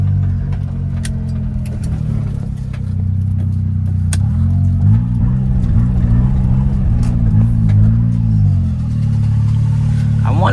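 A stock Suzuki Cappuccino's small engine drones inside the cabin while driving, climbing and falling through several revs with gear-shift dips, loud and close, with occasional rattles.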